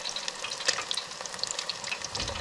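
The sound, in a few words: small fish fillets frying in a pan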